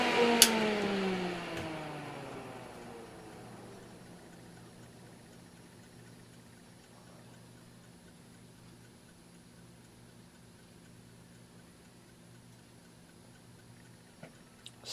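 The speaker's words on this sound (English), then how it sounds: "Still pretty decent spin down on this one." An all-metal solder fume extractor fan spins down after being switched off, its whirring tone sliding lower and fading over several seconds into a faint hum, with a few small clicks near the end.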